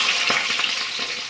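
Chili and onion fry in very hot oil with a dense, steady, hissing sizzle, close and fairly loud, continuous through a short moment.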